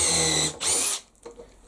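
A power drill bores a hole, two short whirring bursts of the motor separated by a brief pause, then the whine cuts off into near silence with faint handling noise.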